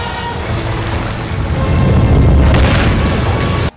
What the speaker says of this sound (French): la fuite de carburant et le feu, ça fait boum